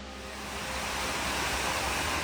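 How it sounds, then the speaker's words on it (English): Seljalandsfoss, a 60-meter glacier-fed waterfall in Iceland, pouring with a dense, steady roar that swells slightly at the start and then stays loud and constant. "Seljalandsfoss is a 60-meter tall waterfall fed by the Eyjafjallajökull glacier"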